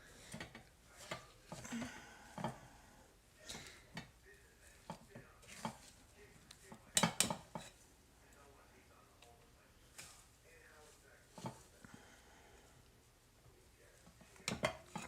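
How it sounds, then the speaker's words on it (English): Sage dressing gets stirred in a large mixing bowl, giving intermittent clinks and scraping knocks of a utensil against the bowl, fairly quiet, with a cluster of sharper clatters near the middle. "stir it, just mix it up"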